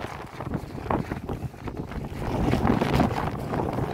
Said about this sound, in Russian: Такой ветер, а?